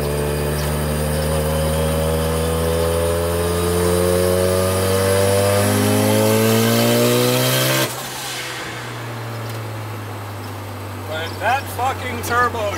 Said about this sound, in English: Sorry, my car is loud.